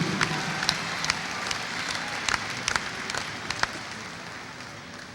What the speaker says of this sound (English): Let's give our top scholars a round of applause.